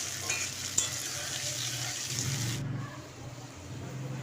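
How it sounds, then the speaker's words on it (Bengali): Spinach and dal cooking in a pan as tomatoes are stirred in, giving a steady close sizzle and frying hiss with scraping stir strokes, then a sudden drop in the bright hiss partway through while low rumbling continues. "তারপর টমেটোকে আমি ভালো করে একটু মিশিয়ে নেব।"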